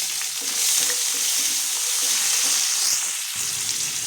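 Steady crackling sizzle of mustard seeds, asafoetida and curry leaves frying in hot oil, continuous and close, with small pops and spatters throughout and no voices.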